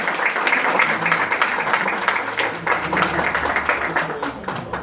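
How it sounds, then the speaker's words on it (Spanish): An audience in a hall applauds to welcome an ambassador at a Bolivarian-themed lecture event. The clapping is dense, steady and fairly loud throughout, mixed with a murmur of voices. "Recibimos con un fuerte aplauso al embajador Elvis Urbina."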